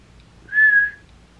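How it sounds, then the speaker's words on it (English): A person whistles a single sustained, steady note lasting about half a second, clear and close against a quiet background. "I mean, yeah, I can whistle."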